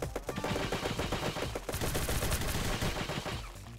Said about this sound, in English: Oh no, gunshots, gamers.